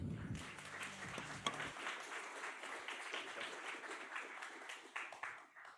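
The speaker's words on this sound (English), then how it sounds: "big round of applause for them" Audience at a game jam bursts into applause, a dense wash of clapping that starts strongly and stays steady throughout, fairly close and loud with some cheering, after a brief bit of low voice at the start.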